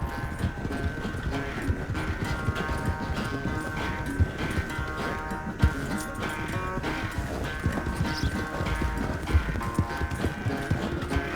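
Horse hooves clip-clop steadily in Red Dead Redemption 2, a close, continuous trotting rhythm over a background music bed.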